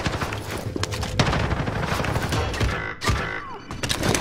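Dense bursts of gunfire in a battle royale video game, rapid overlapping shots and impacts that form a continuous loud fusillade, with a short lull before firing resumes.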